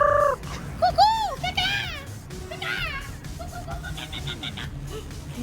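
Several birds calling at a bird sanctuary on a safari train ride, including a turkey gobbling in quick bursts, with sharp whistled and warbling calls close by over a low background rumble.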